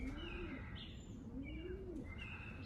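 Soft rising and falling coos from young play pigeons being trained repeat in a slow rhythm, close but quiet, mixed with faint higher chirps and no speech.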